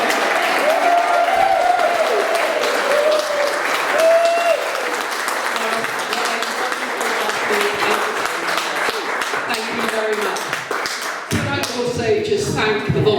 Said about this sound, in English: could we have a round of applause for Maurice?